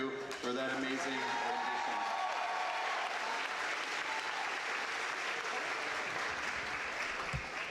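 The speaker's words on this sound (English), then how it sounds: "A round of applause not only for our band, but Genesis Purdue for that amazing rendition." A graduation ceremony crowd applauds the band for its performance, with steady, full clapping and some cheering that rises quickly and holds throughout, and a few voices mixed in.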